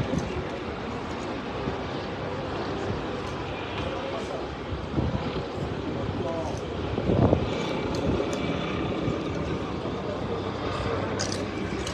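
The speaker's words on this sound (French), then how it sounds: "Regardez l'hélicoptère là." A helicopter engine drones overhead in the distance during a riot in Brussels, mixed with wind buffeting the microphone and some background commotion.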